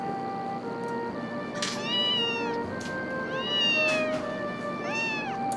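Cat meowing in the visual novel game Princess Evangile, three or four clear, drawn-out meows over a steady background of game music.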